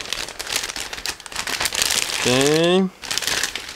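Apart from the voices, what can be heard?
plastic bag being opened, crinkling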